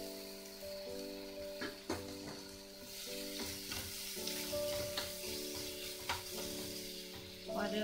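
Ginger and onion paste with spices frying in a pan, a steady close sizzle with a few sharp stir and scrape clicks from the spoon throughout.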